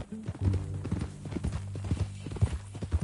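Horse hooves clip-clop at a steady walking pace on a ranch, moderately close, with faint background ambience.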